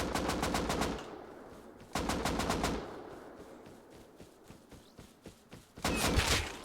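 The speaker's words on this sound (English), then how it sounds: "Why are you shooting me" Automatic gunfire in the survival video game Rust, with rapid bursts of machine-gun fire near and loud, separated by gaps holding scattered single shots and quieter thuds, ending in another dense, loud burst.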